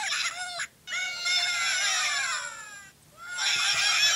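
A black giant Angry Birds plush toy squawks in loud, honking electronic calls, three bursts separated by brief pauses, right up close.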